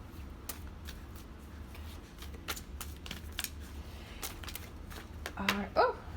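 Fortune-reading cards are shuffled by hand in a run of crisp riffling slaps, close and fairly loud, ending with a few sharp flicks and snaps as cards are drawn.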